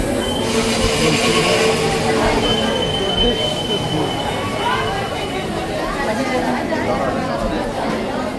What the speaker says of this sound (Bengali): শেষ কামরাটা চলে এসেছে